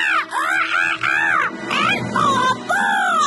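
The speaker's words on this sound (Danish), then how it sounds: "Skreg den skræmte papegøje og tabte den fine perle i havet." A frightened parrot screeching in a dramatic audiobook sound effect: a run of loud, harsh, rising and falling squawks repeated rapidly and close.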